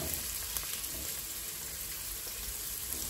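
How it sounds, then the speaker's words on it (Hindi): Onions sizzle softly and steadily in a pan with a few faint stirring ticks and no voices, the sound quiet and constant throughout. "कांदो बरो भाजून घेयाय."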